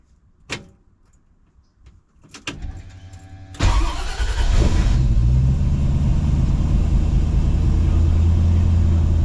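A 1968 Mustang Fastback with a manual transmission cranks after a few clicks and thumps, catches and settles into a loud, steady idle that rumbles close by. Nobody speaks.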